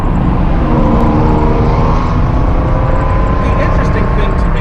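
A 1988 Pontiac Fiero Formula drives along a road with a steady, loud engine drone and road rumble throughout, with faint voices mixed in under the noise.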